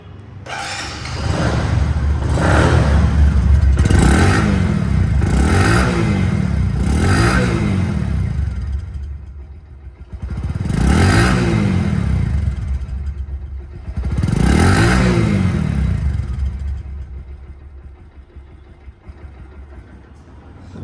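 A 2023 Bajaj Platina 100cc motorcycle in showroom condition is revved repeatedly, with about six loud throttle blips rising and falling over its idling engine.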